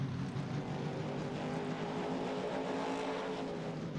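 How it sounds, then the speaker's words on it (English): A truck engine in a farming video game mod idles and drones up close, a loud, steady rumbling hum that holds evenly throughout with no speech. "Gotta listen to this truck up close."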